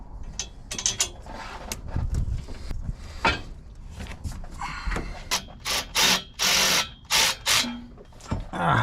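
Metallic ratcheting and clicking as bolts are fitted on a 1982 Ford F-150 engine, starting with scattered clanks and ending in a series of quick, loud ratchet bursts close by.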